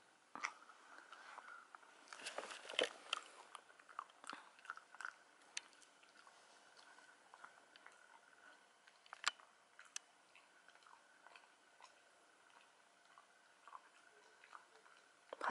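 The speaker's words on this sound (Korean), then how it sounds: "바나나랑 오리근위랑 먹고 있어요." A pet chewing a treat of banana and duck gizzard, with soft, faint crunching and wet chomping in irregular bursts, louder at first and then quieter, alone with no voices.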